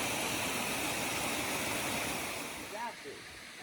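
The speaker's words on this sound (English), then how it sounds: "it's kind of this little stream that follows along" A small cascading stream near Laughing Whitefish Falls in Michigan's Upper Peninsula rushes steadily close by, a continuous broad wash of water, and a brief voice cuts in near the end.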